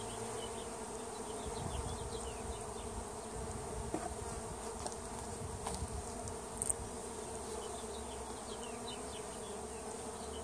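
Honeybees buzzing steadily in an open hive during an inspection, a dense, even drone close by with a few louder individual bees passing near, no talking.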